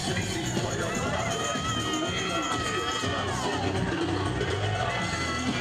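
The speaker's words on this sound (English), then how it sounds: "People have been booing him since he's got here" A wrestling arena crowd jeers a heel wrestler, a dense, continuous roar of shouting and booing voices that fills the whole stretch at steady loudness.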